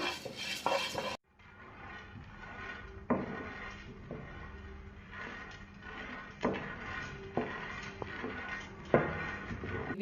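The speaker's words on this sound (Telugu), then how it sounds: "కందిపప్పును కూడా మనము దూరగా వేయించుకోవాలన్నమాట." Toor dal dry roasting in a pan, with grains rustling and a spoon scraping and tapping the metal at intervals, quiet and close.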